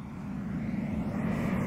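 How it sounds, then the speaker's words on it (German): A fixed-wing airplane passing overhead outdoors during a film shoot, a steady low engine drone that holds at moderate loudness for the whole stretch with no voices. "Flugzeug!"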